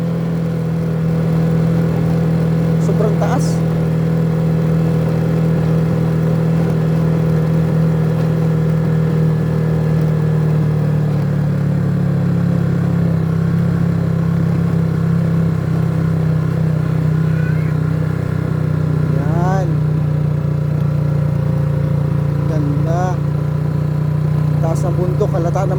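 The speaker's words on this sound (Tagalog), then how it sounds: "kaya tingnan mo yung andar ng motor" A motorcycle engine runs steadily near a river trail, a loud, constant mid-pitched drone holding even throughout with slight shifts in tone.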